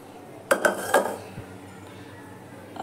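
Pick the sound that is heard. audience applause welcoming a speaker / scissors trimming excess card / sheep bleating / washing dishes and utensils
washing dishes and utensils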